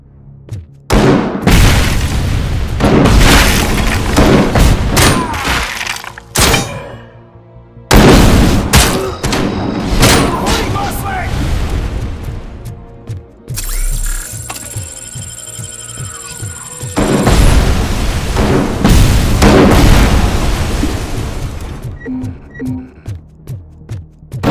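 Cobra cannon firing and explosions in RoboCop Rogue City, heavy booming blasts in long dense bursts separated by brief near-silent gaps, with rumbling aftershocks and a high electronic whine midway.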